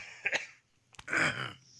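Someone coughs and clears their throat right into a close microphone on a live talk show, with a couple of short rough bursts followed by a longer harsh cough.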